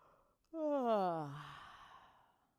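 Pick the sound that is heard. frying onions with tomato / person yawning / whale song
person yawning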